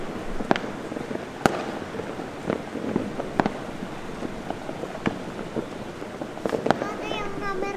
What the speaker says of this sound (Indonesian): Lihat kembang api ya?